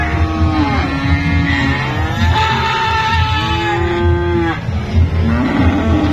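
Cattle of several breeds lowing on a cattle farm: repeated drawn-out moos from more than one animal, close and loud, over a steady low rumble of background noise.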